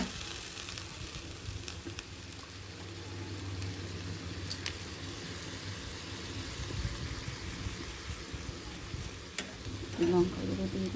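Spices for egg masala curry, with garlic paste, chilli powder, turmeric and salt, sizzle and fry steadily in a pan while being stirred, with a few scrapes and clinks over the continuous hiss.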